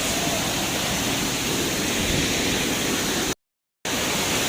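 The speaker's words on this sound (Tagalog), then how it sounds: "So, ito yung taas ng waterfalls." A waterfall roars as a dense, steady wash of falling water, loud and unbroken apart from a brief gap of silence near the end.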